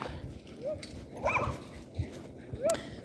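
A dog whimpers and gives a few soft, high yips in short separate bursts against a quiet room, faint and close by.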